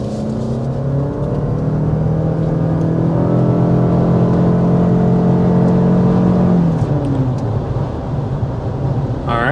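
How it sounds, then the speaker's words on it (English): A Lexus NX 350h hybrid accelerates hard to about 60 mph, its engine droning loudly with a steady rising pitch under road and wind noise, then easing off near the end. "there was our hard acceleration to about 60 miles per hour"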